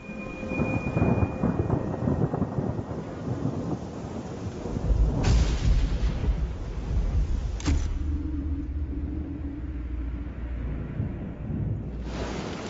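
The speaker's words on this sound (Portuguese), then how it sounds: "Chuva." Steady rain pours over the African savanna where lions live, a dense continuous hiss with deep rumbles of thunder beneath it and a few sharp cracks, with no voices.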